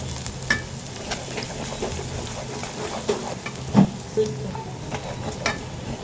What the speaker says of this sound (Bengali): মশলাগুলো এড করিয়ে দেখ, হলুদের গুঁড়া, মরিচের গুঁড়া, আস্তে আস্তে মশলাগুলো এড করে নিই